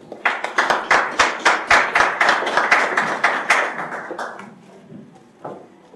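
A small audience at a medical symposium gives sparse, rhythmic applause, with a few close, distinct claps at a brisk steady beat that thin out and fade to scattered last claps.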